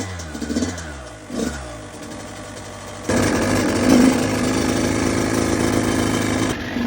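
A 2023 Kawasaki KX85 dirt bike engine running loud and close after being repaired from a broken state, starting with a few uneven revs, then settling into a sustained buzzing rasp with a brief rise in pitch, no talking.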